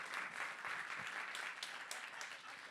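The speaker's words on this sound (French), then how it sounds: "Applaudissez" Comedy club audience applauding a stand-up comedian, a steady, dense patter of many hands at moderate distance, continuous and even throughout.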